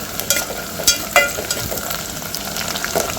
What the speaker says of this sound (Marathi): यामध्ये आता आपल्याला मिरच्या पण घालून घ्यायची आहे आणि छान परतून घ्यायचं आहे